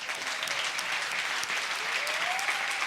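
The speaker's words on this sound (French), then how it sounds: "J'aimerais bien qu'on puisse applaudir notre Dieu." Congregation applauds God during a French-language church service, steady continuous clapping from many hands filling the room, moderately loud, with no talk over it.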